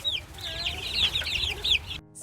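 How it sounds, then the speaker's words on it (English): Chickens cluck busily and close by in a continuous overlapping chatter of short calls, cutting off abruptly at the end. "Chickens."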